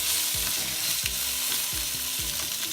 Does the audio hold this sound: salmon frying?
yes